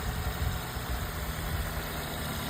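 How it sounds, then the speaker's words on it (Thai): A 2006 Nissan Tiida 1.6 automatic's engine idles steadily, a low, even rumble with a faint vibration and no change in pace throughout. "มาฟังเสียงเครื่องยนต์กันนะครับ"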